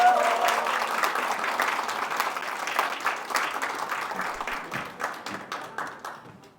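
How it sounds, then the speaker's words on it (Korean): An audience at a Korean education forum breaks into loud, sustained clapping that fades gradually toward the end, with scattered individual claps trailing off. "모두 박수 부탁드립니다."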